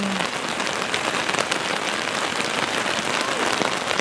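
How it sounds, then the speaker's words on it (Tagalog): Heavy rain pours down steadily in Guangzhou, a dense, loud wash of drops hammering surfaces with no letup. "Lakas ng ulan,"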